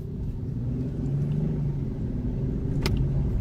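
A Nissan 370Z with its stock exhaust drives along, its low engine rumble steady and fairly quiet throughout, with no voices over it.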